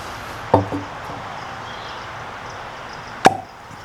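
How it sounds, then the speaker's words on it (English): Real cork pulled from a bourbon bottle gives a sharp pop, followed about three seconds later by a second sharp pop, each standing out clearly above a steady room hum. "Really good cork pop. And it's not synthetic cork,"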